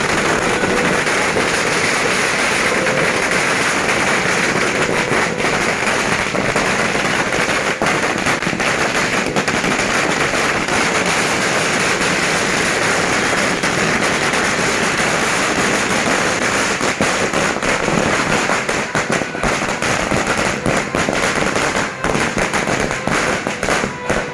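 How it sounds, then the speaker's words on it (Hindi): Dense, continuous crackling of firecrackers and fireworks at a restaurant opening, bursting rapidly and loudly, an unbroken barrage of sharp pops lasting the whole stretch. "खुशियों की आतिशबाजी की जा रही है"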